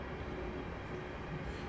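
A Class 350 electric train in a train simulator game rolls along the West Coast Main Line through the Trent Valley, a steady continuous rumble of rail and motor noise with no talk.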